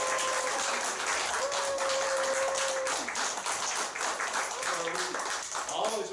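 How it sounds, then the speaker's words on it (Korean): A church congregation applauds during a Sunday worship service with sustained, even clapping throughout. Voices call out and murmur among the claps. "큰 박수로 축복해 주시기 바랍니다."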